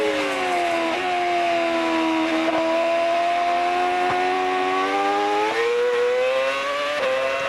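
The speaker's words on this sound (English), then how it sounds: "Just hearing the sound of these engines, this engine reverberating off the trees." A Formula One race car engine holds a loud, sustained high-pitched whine that climbs through the revs, dipping briefly at several gear changes, echoing outdoors among trees with no talk over it.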